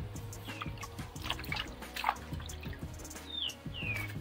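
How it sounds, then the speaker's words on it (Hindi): Water drips and splashes as green chilies are rinsed, a scatter of light close liquid taps and trickles with faint bird chirps in the background. "चलिए मिर्ची भी धो लेता है"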